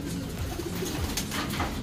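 Pigeons coo softly in low, repeated throaty calls against a steady background hiss, with no talking, at a bird training session in San Jose, Nueva Ecija.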